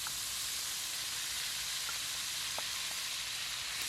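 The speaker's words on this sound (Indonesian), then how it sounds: "langsung tumis bumbu-bumbu yang sudah dihaluskan" Ground spice paste sautéing in melted fat in a pan: a steady, faint hiss of sizzling with a few small pops and crackles, and no voices.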